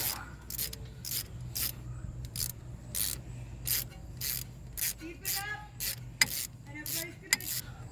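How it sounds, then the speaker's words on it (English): Brake caliper bolts being loosened on a 2008 Ford Crown Victoria, repeated quick ratcheting strokes in uneven bursts, close but fairly quiet, with a couple of sharp metallic knocks near the end. "you're going to want to loosen them both first"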